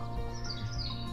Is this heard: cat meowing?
no